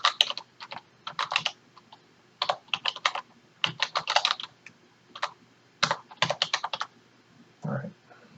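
Fingers type on a computer keyboard in quick clustered bursts of crisp, close key clicks, separated by short pauses, in an otherwise quiet room.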